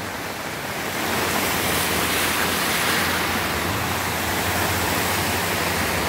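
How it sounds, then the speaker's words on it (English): Floodwater rushes through a gully after heavy rain, a loud, continuous broadband roar of churning water that swells after the first second and stays steady and close, with no voices. "see the volume of the water"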